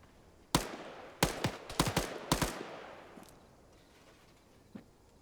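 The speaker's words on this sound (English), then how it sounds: "I love how the AR using the two-shot burst mode with the G36." A G36 assault rifle fires short two-shot bursts in Ghost Recon Advanced Warfighter 2, several sharp paired cracks in quick succession followed by a decaying echo, moderately near with no talk.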